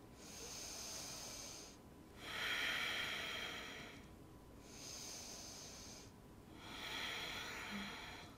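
Slow, deep yoga breaths during a flow, drawing in and pushing out in long hissing cycles, roughly four full inhales and exhales close to the microphone with no talking.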